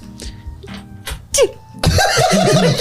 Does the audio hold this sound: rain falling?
no